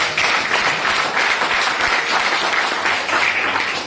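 A seminar audience applauds, a dense, loud and steady wash of many hands clapping that runs without a break for several seconds.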